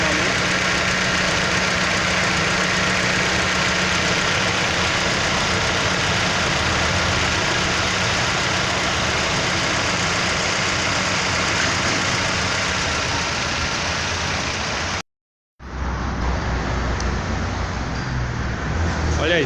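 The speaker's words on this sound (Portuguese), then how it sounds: "O eletroventilador acabou de entrar em funcionamento." Car engine idling with its electric radiator cooling fan running, a steady close whirring roar that cuts out for a moment and then resumes.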